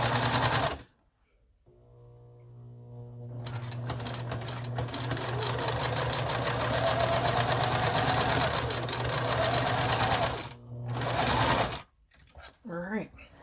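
Sewing machine stitching a scrappy string quilt, a steady whirring run after a brief start, loud and continuous, stopping near the end with short bursts, under a nearby voice talking.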